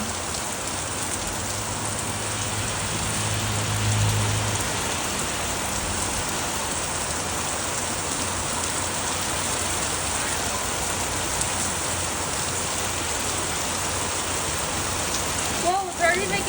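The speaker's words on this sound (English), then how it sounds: "that's the hardest rain I've ever seen" Hard, heavy rain pours down steadily outdoors, a dense unbroken hiss of drops hitting the ground throughout, with a brief faint clatter near the end.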